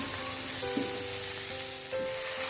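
Chili, bay leaves and galangal sautéing in a pan at home, a steady close sizzle with soft stirring scrapes and a few brief tonal clinks, no talking.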